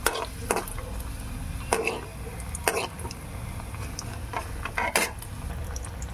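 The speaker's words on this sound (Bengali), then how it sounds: "তারপরে আমি ভাজা করে নিব বড়ি, এর মধ্যেই দিয়ে বড়িটাকে ভাজা করে নিব" Bori lentil dumplings fry in a pan as a utensil clinks and scrapes against the metal in sharp, irregular strikes over a low, steady sizzle.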